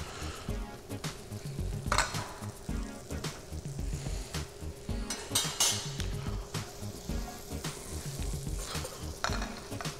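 Vegetables frying in a pan while omelettes are being prepared, with a steady sizzle, stirring scrapes and clinks of utensils against the pan running throughout at close range.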